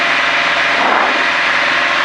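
A small airplane engine drones loud and steady from inside the cockpit during a climbing turn, a dense broadband roar with constant propeller hum and no talk.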